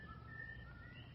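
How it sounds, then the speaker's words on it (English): A man whistles in an old western, a faint, thin, steady tone that wavers slightly in pitch over a low rumbling background, heard briefly and at a distance. "He's whistling again."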